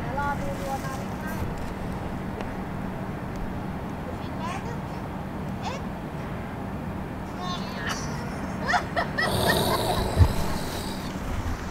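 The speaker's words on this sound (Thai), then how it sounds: "นี่มีเรือกำลังมาด้วย" A motorboat approaches along a canal during a fishing outing, its low engine drone running steadily under close talk and gusts of wind on the microphone, growing slightly louder near the end.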